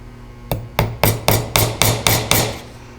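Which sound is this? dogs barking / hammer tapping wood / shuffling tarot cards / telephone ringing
hammer tapping wood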